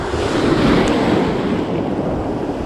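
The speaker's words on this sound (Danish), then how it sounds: "så får jeg vinden lidt ind på siden i stedet for lige ind i smasken" On a coast in West Zealand in mid-November, strong wind buffets the microphone over a constant roar of waves and surf, loud and unbroken, with no voices.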